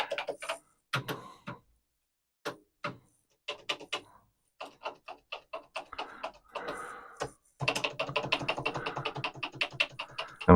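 Keys clattering on a dirty vintage Commodore PET keyboard, sparse separate clacks at first, then a dense fast run of close, sharp key strikes, with no voice.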